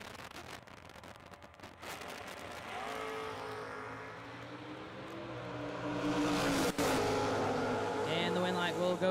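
Thunderbird and Camaro drag race cars roar as the engines build, a loud, rising mechanical rumble that swells toward the end, with an announcer talking over the start.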